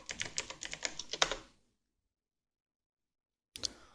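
Quick, close keyboard typing as a search word is entered, a rapid run of clicks lasting over a second, then silence before a brief final burst of keystrokes.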